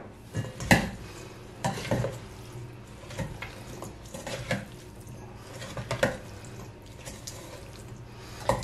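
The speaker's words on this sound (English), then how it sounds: "We'll just keep mixing till everything's well mixed." Spring roll filling with ginger gets stirred in a bowl, producing scraping and clinking strokes at an irregular rhythm, close and moderately loud, with no voices.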